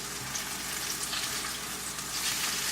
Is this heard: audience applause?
no